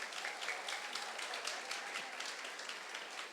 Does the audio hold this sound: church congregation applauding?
yes